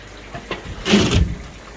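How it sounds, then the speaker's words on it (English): Water from a pump flows through a pond filter with moving-bed media, a soft gurgling rush that swells briefly in the middle and settles back, close by and without speech. "I've turned the pump up, open that up a bit more, so more water is flowing through here"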